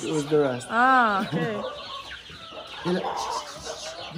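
Chickens cluck and squawk close by on an off-grid farm in the Middle East, mixed with brief conversation between people nearby.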